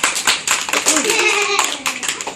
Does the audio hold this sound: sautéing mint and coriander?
no